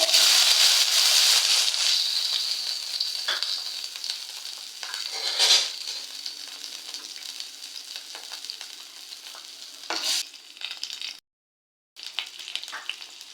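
Small shallots fry in coconut oil for a brinjal curry, starting with a bright, intense sizzle that settles into a softer crackling hiss, with a few stirring bursts and a short silent break near the end.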